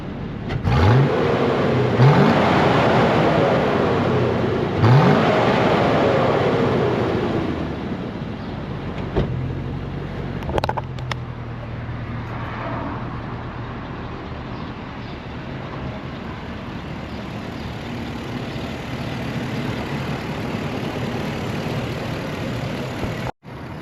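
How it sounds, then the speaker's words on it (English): A 2007 Chevy Colorado Xtreme with a V8 swap, stock muffler and catalytic converters still fitted, revs a couple of times with rising engine sweeps, then settles into a quieter, steady idle rumble. "Those are a couple of revs, but like I said, this thing is stock muffler, stock."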